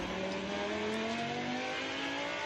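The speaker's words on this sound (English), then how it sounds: "Gerard van der Horst then, world champion-elect in Lamborghini Cup, comes over the brow." A Lamborghini Super Trofeo race car on the circuit at Imola during a world final race, its engine a steady, fairly distant droning roar that holds at an even pitch throughout.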